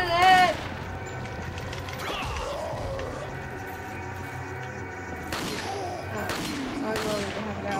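Gunshots in the video game Resident Evil 4, a few loud sharp bangs near the start and again toward the end over low game sounds, with a voice calling out between.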